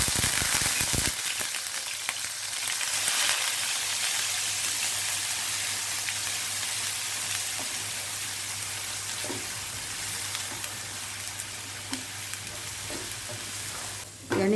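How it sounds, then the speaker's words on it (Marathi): Onion paste frying in hot oil with cumin and a pinch of asafoetida, giving a loud, dense, steady sizzle that softens a little over time, with a few faint clinks near the end. "त्यामध्ये ही कांद्याची जी पेस्ट करून ठेवली आपण ही घालायची"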